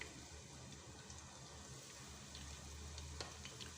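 A medium onion, sliced, goes into hot oil in a pan and fries with a steady, faint sizzle and crackle, with no voice over it.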